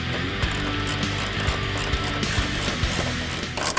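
A hand ratchet tightens the hood vent bolts on a 2015-2017 Mustang GT during a Drake Muscle Cars mesh vent install, its rapid close clicking running steadily throughout with small irregular knocks.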